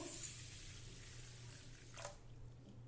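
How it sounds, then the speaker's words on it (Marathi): Water pours into a pot of rice grits in a home kitchen as a faint, continuous trickle and splash, with a brief sharper splash near the end and no talking. "यामध्ये पाणी घालू"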